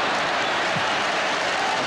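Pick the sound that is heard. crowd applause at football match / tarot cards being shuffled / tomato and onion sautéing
crowd applause at football match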